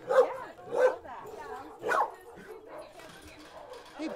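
A dog at an animal rescue gives a few short barks and yips with whining in between, close by, while people talk softly nearby.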